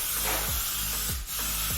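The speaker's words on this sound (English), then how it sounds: "Again, you just check it on the masking, spraying beautifully." A paint sprayer hisses continuously while coating existing window frames during a house renovation, a close steady spray with faint pulsing clicks underneath.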